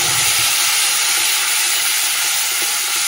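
Ground green chili, ginger and tomato paste hit hot oil with a loud, steady hiss and crackle of frying that holds from start to finish, close by, with no talking.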